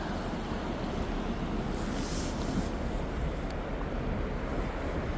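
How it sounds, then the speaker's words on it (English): Strong wind roars across Damon Point beach on the Washington coast, a loud, unbroken rush buffeting the microphone with surf noise mixed in, and no one speaking. "The wind was blowing, I had to show y'all."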